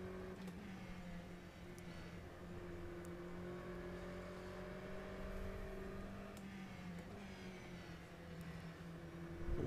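Aston Martin GTE race car engine in the rFactor 2 racing game at Lester GP, a faint steady engine drone whose pitch holds and then dips slightly, with a rise at the very end.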